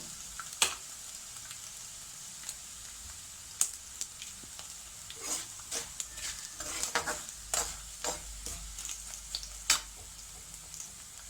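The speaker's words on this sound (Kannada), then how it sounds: "ಒಗ್ಗರಣೆ ಎಲ್ಲ ಈ ರೀತಿ ಇದರಲ್ಲಿ ಹಾಕೋಬೇಕು" A tempering for curd rice sizzles softly in a pan while a spoon stirs it. Irregular scraping and clinking strokes come over the constant frying hiss, with no voices.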